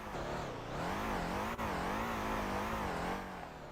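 Car engine droning and wavering in pitch while driving through mud in the Motor Town driving game, a steady loud revving tone that rises and dips continuously with a brief click midway.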